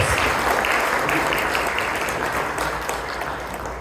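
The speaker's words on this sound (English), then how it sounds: "Give him a big hand of applause" Audience at an Indian Congress Party victory celebration in Chicago applauding, a dense sustained wash of clapping that fills the whole stretch and tapers slightly toward the end.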